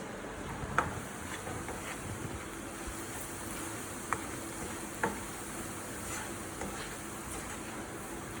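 Butter cooking slowly in a pan over low heat gives a steady, soft sizzle with a few light clicks of a utensil against the pan, and no one speaks.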